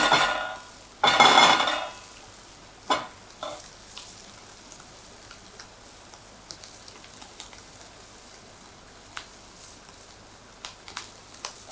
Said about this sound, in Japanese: ここはもう強火で一気にカリッカリに焼き上げます。